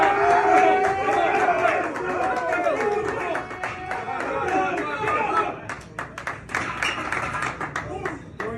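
Teammates cheer and egg on a lifter nearing 40 reps on the bench press in a football weight room, their loud overlapping shouts and chatter joined by scattered claps and taps toward the end.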